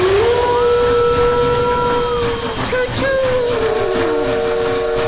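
Ghost train steam whistle in a sound effect, a loud sustained multi-tone wail that dips briefly midway and then resumes over a steady hiss of steam.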